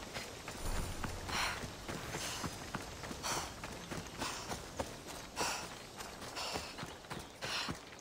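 Horse hooves from Assassin's Creed Odyssey, a steady run of clip-clop footfalls on ground, fairly close and moderately loud, with game ambience and no talk over it.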